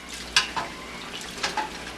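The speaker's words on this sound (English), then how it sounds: "This one is still frying" Dough frying in oil gives a soft crackle with a few brief louder pops and sizzles, fairly quiet and close, no talk.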